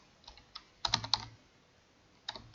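Fingers typing on a computer keyboard, a few soft scattered taps, then a quick burst of clustered keystrokes and one last tap after a pause. The sound is close and crisp, with no speech.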